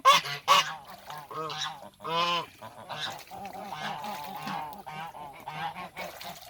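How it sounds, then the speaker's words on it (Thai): Several geese honk loudly and repeatedly up close while playing in a cement mixing tub of rainwater, overlapping nasal calls in an irregular jumble, with splashy water sounds underneath. "ความสุขของห่านนะคะ น้ำแค่นี้ก็พอละ"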